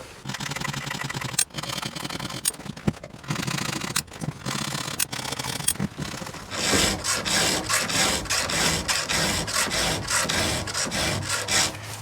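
Round file sharpening a chainsaw chain, pushed forward in one direction: steady rasping strokes, close and fairly loud, first irregular and then a faster regular run of scrapes with a few metallic clicks, no speech.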